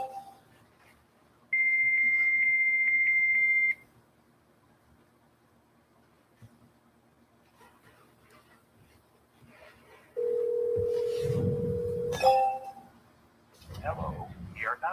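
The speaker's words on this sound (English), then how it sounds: "so now we're using the dialer" A phone dialer on a real estate cold call plays a steady dial tone, then a second tone and a quick burst of dialing beeps, with quiet rustling between them and a voice answering at the end.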